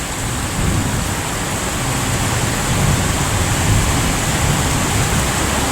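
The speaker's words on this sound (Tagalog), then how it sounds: "grabe na yung ulan biglang bumuhos kanina" Heavy rain pours down on a flooded street in a continuous, dense hiss that holds steady and loud throughout, during a thunderstorm in Bangued, Abra, with no voices over it.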